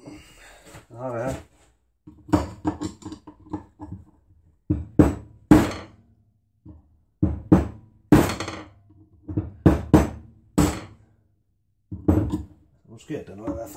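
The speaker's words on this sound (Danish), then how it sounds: "Det kan godt være, at vi skal have en større hammer på." Hammer blows on a bearing, struck with a bigger hammer: a run of sharp, loud metallic knocks at an irregular pace, close by, with voices talking between and over the strikes.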